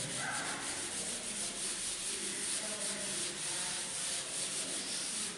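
Steady rubbing scrape of a duster erasing a classroom board, continuous and close, with no talk.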